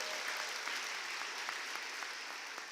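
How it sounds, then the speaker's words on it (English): An audience at a Westchester University alumni event applauds in a steady, dense patter of many hands, with no talk over it. "Can I get an applause for being an alumni?"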